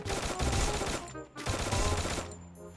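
Gunfire in Garena Free Fire: two dense bursts of rapid automatic fire about a second long each, broken by a brief pause, loud and close, with no talk.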